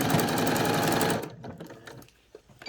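Sewing machine stitching a gathered skirt hem with a zigzag stitch, a close, fast, steady whirring chatter for about a second before stopping, followed by faint handling clicks.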